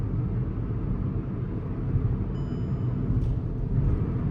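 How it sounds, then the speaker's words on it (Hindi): Cabin noise inside a Hyundai Aura CNG sedan at 80 km/h on a highway with windows closed: a steady low rumble of road and wind noise, constant and moderately loud, with no talking. "इतना शोर तो है जब ये गाड़ी 80 की स्पीड पे चल रही है।"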